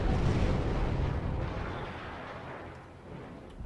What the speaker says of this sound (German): Da ist eine Bombe abgestürzt.